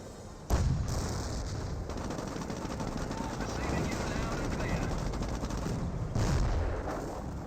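A Churchill tank's cannon firing amid a Company of Heroes battle, booms landing over a dense continuous bed of machine-gun chatter and artillery rumble, with a commentator talking throughout.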